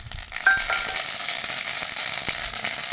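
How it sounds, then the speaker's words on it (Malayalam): Mustard seeds sputter and pop in hot oil in a pan while cooking a bitter gourd dish, a close, steady crackling sizzle with scattered sharp pops throughout. "ഇതാ കടുകിട്ട് കൊടുക്കാം."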